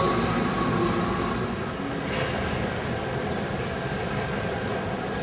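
A Heathrow Airport gate-to-gate transit train rumbles steadily along with a constant low roar and faint rattles, heard from inside the carriage, even and continuous, no talking.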